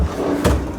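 A drawer in a luxury hotel room at Marina Bay Sands slides open or shut in one quick, close, loud movement, with a soft bump near the middle.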